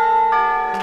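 The bell of the Big Ben clock tower chimes in a single clear, sustained, ringing tone, with a second strike starting just as the first one fades.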